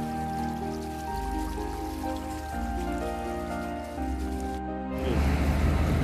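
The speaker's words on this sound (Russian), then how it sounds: "Бежит ручей." A small stream runs out of the ground below a foundation with a continuous trickling, splashing wash under a low steady hum, and the water grows louder and brighter near the end.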